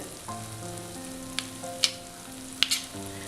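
Ghee hitting semolina upma in a pan on low flame sizzles softly and steadily, with a few brief bright pops and scraping clicks over a faint background hum.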